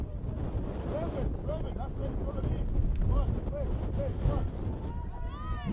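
Wind buffets the microphone in a steady low roar across the field at a girls' under-11 football match, with faint high chirps above it.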